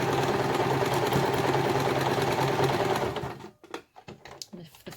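A domestic sewing machine stitches two layers of fluffy fleece for an Easter bunny, whirring in a steady, close run for about three seconds before stopping, followed by a few soft handling clicks.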